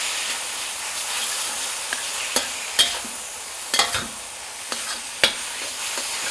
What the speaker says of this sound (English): Now you take that and go ahead and stir it around until the sauce has coated all the noodles.